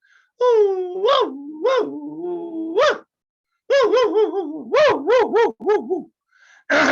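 Close up, a person mimics a puppy's whimpering in a yoga breathing exercise: drawn-out whines end in sharp upward yelps, then a second run of quick, wobbling yelping pulses and a brief breathy sound at the end.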